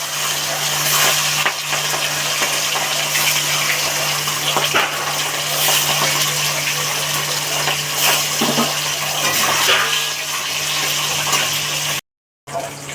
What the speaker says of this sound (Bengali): মাছগুলো একটু ভালো করে ভেজে নিতে হবে।